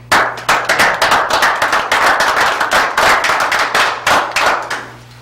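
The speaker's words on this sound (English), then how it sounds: "I just want to give an applause to them." Sharp, close hand claps ring out in a dense, irregular burst, sounding like a small group applauding emergency responders at a community gathering.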